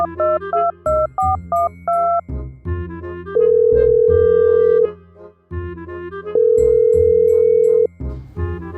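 A telephone call being placed: a quick run of keypad dialing tones, then long steady ringback tones with pauses between them, loud and alone with no voices.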